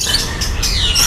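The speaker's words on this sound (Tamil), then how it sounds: "அடுத்ததாக நீங்கள் பார்க்க இருக்கிறது லவ் பேர்ட்ஸ்" Lovebirds in a Chennai children's park zoo aviary give shrill, squawking chirps in quick bursts, loud and close over a short stretch.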